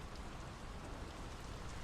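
Steady rain falls throughout, a dense even hiss of drops pattering on surfaces with no voices and no pauses.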